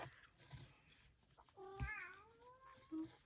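A single drawn-out meow rises and bends in pitch, preceded by soft rustling and followed by a short chirp-like call.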